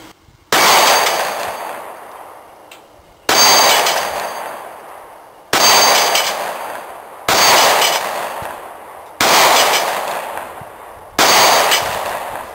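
Six Beretta Nano pistol shots fired one by one at steel plates, each a sharp loud crack with a ringing decay, spaced roughly two seconds apart in a steady rhythm.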